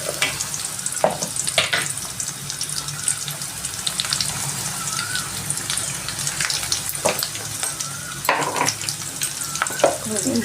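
Mutton and brinjal fry with turmeric in a pan, a close sizzle under repeated scraping stirs, with splashy water-like bursts at intervals.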